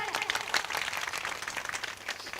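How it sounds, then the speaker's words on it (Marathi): An audience at a Marathi kirtan applauding, a dense and fairly distant patter of many hands clapping that holds steady for a couple of seconds. "जोरदार टाळ्या."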